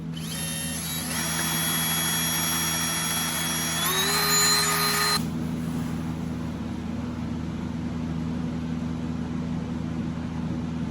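Machine whine from a vacuum chamber pump degassing lilac resin for a birch burl turning, with steady tonal hum and a pitch shift before a sharp drop to a lower broadband hiss and low drone.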